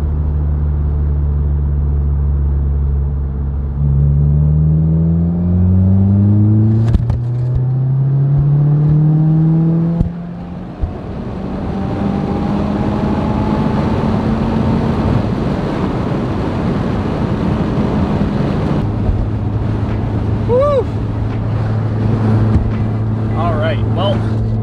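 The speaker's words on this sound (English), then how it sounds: "Let's hop on the highway, get in fifth gear, and just hold it." A Subaru WRX (2015 or later) holds steady in fifth gear at about 2,000 RPM on a highway, its low, steady engine drone rising slowly in pitch. Road and wind noise run underneath.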